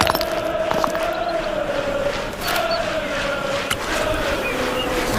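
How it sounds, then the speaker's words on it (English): Brighton football fans roar and chant in a packed stadium, a dense, steady crowd din with a sustained sung tone running through it and no pauses. "All the noise you can hear now is from the Brighton fans."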